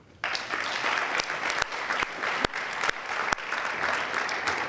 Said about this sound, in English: a round of applause for all of them in that first group